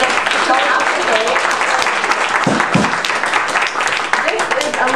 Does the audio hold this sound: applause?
yes